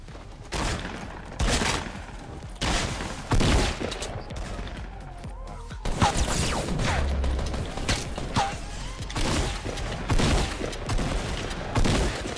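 Fortnite Battle Royale gunfire crackles in repeated loud bursts and volleys, with short pauses between strings of shots and a dense mix of in-game effects.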